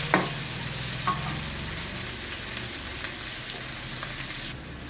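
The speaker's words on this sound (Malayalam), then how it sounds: "ഇനി നന്നായിട്ട് ഇളക്കി കൊടുക്കുക." Sliced onions fry in a pan, giving a steady close sizzle while a spoon stirs and scrapes them now and then, with no talking over it.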